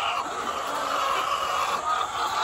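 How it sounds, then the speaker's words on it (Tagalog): Egg-laying chickens in a coop cluck and fuss together in a steady, busy chorus that fills the whole moment at close range. "Yan yung third batch ng mga manok natin"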